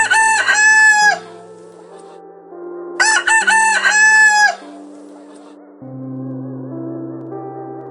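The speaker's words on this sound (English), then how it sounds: "What does the rooster say?" Rooster crowing twice in loud, close, drawn-out calls separated by a pause, over a quiet backing of soft sustained music tones.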